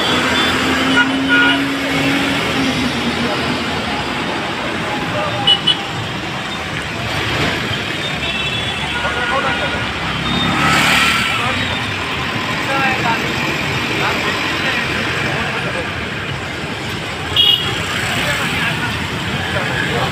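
A queue of cars and traffic on the Pune Nagar road makes a steady rumble of engines and passing vehicles, fairly close, with a few brief louder bumps and people talking over it.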